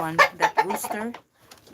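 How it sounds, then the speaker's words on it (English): A Philippine native rooster gives a quick run of loud, close clucks, followed by a brief pause and softer sounds. "it is a native rooster"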